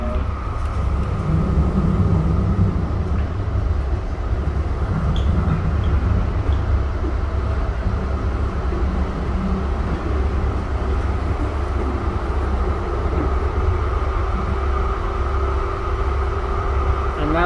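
A Siemens U2 light rail train on Calgary's CTrain Blue Line rumbles past, heard from aboard another moving train as a steady, loud low-frequency roar with faint rattling throughout.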